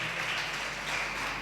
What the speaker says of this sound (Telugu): చప్పట్లు కొట్టాలి అందరూ గట్టిగా.